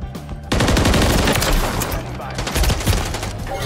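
Rapid automatic gunfire in an online shooter game, a dense close burst of shots that runs continuously for about three seconds after a quieter start.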